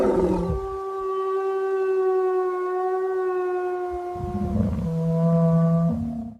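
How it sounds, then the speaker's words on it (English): An AI-generated wolf howls at the moon: a long, loud tonal howl that slowly falls in pitch, followed by a second, lower, rougher howl with a growling edge. "I had to test a wolf howling at the moon."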